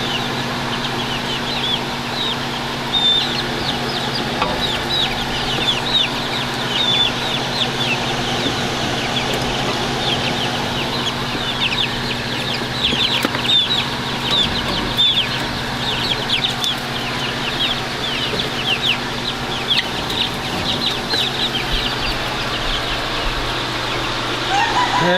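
Young chicks in a brooder cluck and peep steadily and close by, with occasional wing flapping and a constant low hum underneath, no talk.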